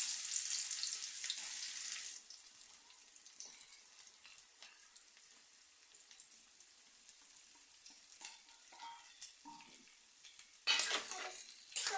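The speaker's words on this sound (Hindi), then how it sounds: "जब अच्छे से हो जाए उसके बाद हम इसमें प्याज डालेंगे।" Onions sizzling in hot oil in a pan for a desi chicken curry, a steady close frying hiss with faint stirring scrapes and a few louder clatters near the end.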